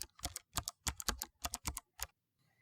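Quick bursts of key presses on a computer keyboard type out a spreadsheet tab name, coming in uneven clusters of crisp clicks with short pauses between, close and clear, ending in quiet.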